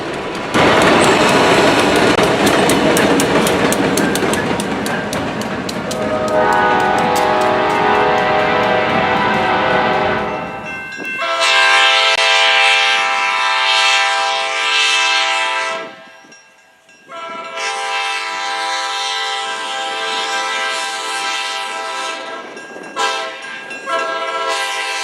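A passenger excursion train behind locomotive 664 rumbles past near Jeffersonville, Ohio, and gathers speed, a loud continuous roar with clattering wheels, followed by long sustained blasts of the horn that stop, then sound again.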